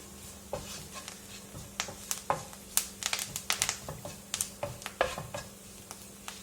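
Curry leaves sizzle and crackle in hot coconut oil for an okra curry, with a continuous frying hiss punctuated by many sharp pops and spatters, plus some stirring clinks close by.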